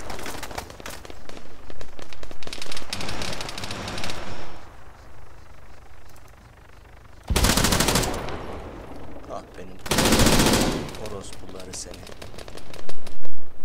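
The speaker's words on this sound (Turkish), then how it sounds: "aşağı düştü el bombası" Hand grenade explosions and gunfire in the ARMA 3 military video game, with two loud broadband blasts standing out amid rattling shots, under excited talk from players.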